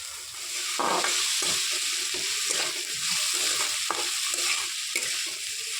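Chopped onion, green chilli, carrot and potato are stirred in a hot pan, with a rhythmic scraping of the spoon against the metal over a continuous close sizzle.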